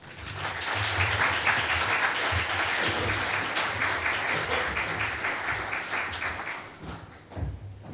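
Sustained audience applause fills a conference hall at the Asia Spotlight 2024 event as Ambassador Chan Heng Chee is welcomed to the stage, steady dense clapping for about seven seconds before tapering off.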